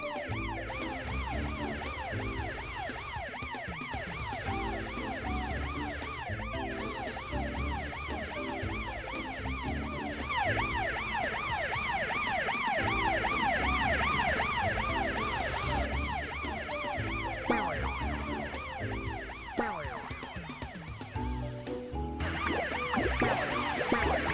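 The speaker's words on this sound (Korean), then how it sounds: "뒤에 사이렌 소리 들려?" A cartoon emergency siren wails steadily in rapid up-and-down sweeps over a low engine rumble, fairly close and continuous throughout.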